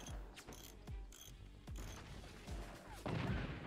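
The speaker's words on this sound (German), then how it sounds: "Jetzt kann der Howitzer wieder schießen." Repeated booming howitzer and cannon shots in the video game Forts, about five sharp low thuds spaced roughly a second apart, each with a short ringing tail, and no talking.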